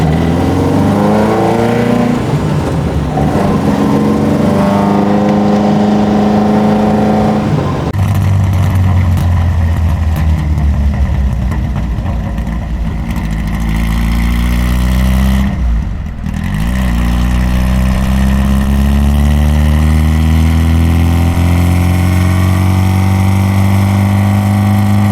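An Alfa Romeo 33 race car with a close-ratio gearbox revs hard on the road and climbs through the gears, loud and close, with a brief drop at a shift before pulling again.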